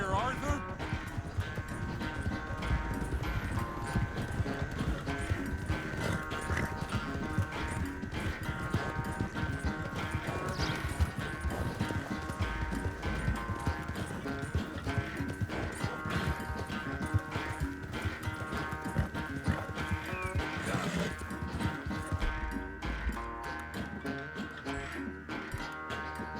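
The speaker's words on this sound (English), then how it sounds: "I've barely dug in a spur here, Arthur." A horse gallops in Red Dead Redemption 2, with steady rhythmic hoofbeats running the whole time under game music and voices.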